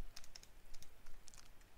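Keys tapped on a computer keyboard while an IP address is entered in a terminal on Ubuntu 18.04, giving a quiet, quick run of close clicks with short pauses and no talk.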